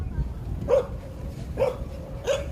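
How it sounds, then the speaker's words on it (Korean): A dog outdoors in Guam gives three sharp barks, spaced roughly a second apart, over a rumbling background of wind or traffic. The barks sound moderately distant and no one talks over them. "멍멍이가 있어."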